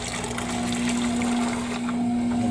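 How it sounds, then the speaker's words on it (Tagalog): A Weili automatic washing machine's drain pump hums loudly and steadily while water gurgles out, a close continuous motor drone with a constant tone. "Nagpa-pump na siya."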